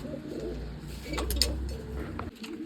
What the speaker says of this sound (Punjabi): ਬਾਕੀ ਕਬੂਤਰ ਫਿਰਦੇ ਆ